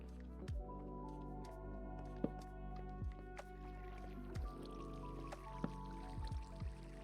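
Water drips and trickles in a Minecraft cave world, with repeated soft plinking drops at irregular intervals over a low, steady ambient drone, fairly quiet and without talk.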